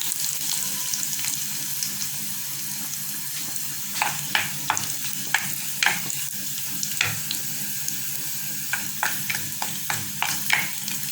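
Chopped dried chilies and garlic sizzle in hot oil for a lotus root curry, a steady background fry punctuated by irregular sharp stirring clinks and scrapes, with no voices.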